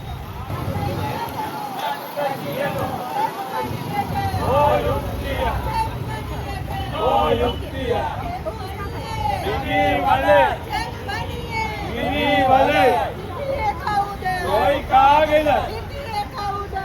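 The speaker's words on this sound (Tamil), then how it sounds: "பயங்கரவாத தடுச்சட்டத்தை வந்து நிப்பாட்ட சொல்லி ஆர்ப்பாட்டம் நடந்து கொண்டிருக்குது" Crowd noise at a street protest in Jaffna town, a steady babble of many voices with traffic mixed in. Louder shouts and speech rise over it at times.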